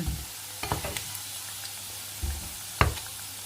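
Battered pork pieces fry in hot oil with a steady low sizzle, broken by a few sharp scraping stirs and clatters, up close and with no voices.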